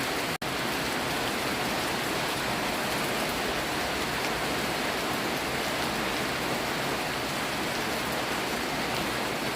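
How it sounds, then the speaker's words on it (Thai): Steady, dense rain pours down continuously, a loud even rushing hiss with no pauses or voices. "ฝนตกเปียก"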